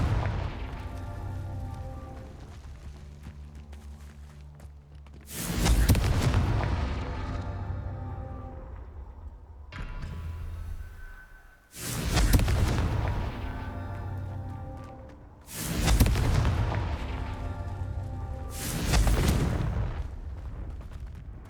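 The Confringo explosion spell in the Hogwarts Legacy video game sets off four heavy booming blasts several seconds apart, each a loud crack that rolls off into a long rumbling decay, with no talk.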